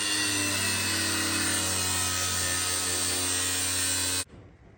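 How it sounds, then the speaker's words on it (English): A small angle grinder with a metal cutting disc cuts into a Corvette kart, a loud continuous high whine and grinding roar that cuts off abruptly near the end, leaving a quiet room. "So, a little grinder. We're gonna use a metal disc and we're just gonna have at it, see what happens."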